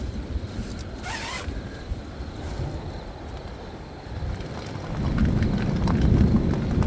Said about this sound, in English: it's officially raining. You can hear it on the tent.